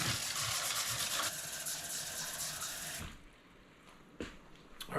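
Tap water runs loudly into a gallon jug, a steady broadband rush that cuts off partway through, followed by quiet drips and a few light knocks of the container.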